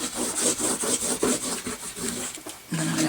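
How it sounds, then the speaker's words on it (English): A paper strip is burnished down onto a handmade file-folder mini album, quick repeated rubbing strokes in an uneven rhythm, close and fairly soft. "then we're going to burnish that off"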